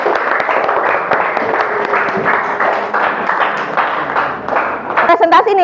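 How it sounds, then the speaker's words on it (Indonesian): Students in a classroom clap together for a classmate who presented at the front, a steady burst of applause that fades toward the end before a few sharper knocks. "Kasih tepuk tangan dulu."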